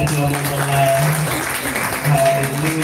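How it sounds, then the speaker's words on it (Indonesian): Guests at Jonathan and Wulan's wedding ceremony applaud the bride and groom, a steady crowd clapping wash under background music and a voice. "kasih tepuk tangan dong buat kedua mempelai"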